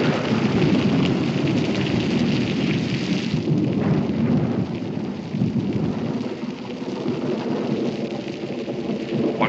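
Steady heavy rain pours throughout with rolling thunder rumbling beneath, a continuous loud storm close by with no voices.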